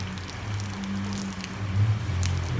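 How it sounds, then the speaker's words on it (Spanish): Morning rain falling in San Miguel, a steady, soft wash of drops under a low, constant rumble, with no talking. "Y que así amaneció esta mañana en San Miguel. Lluvia, lluvia."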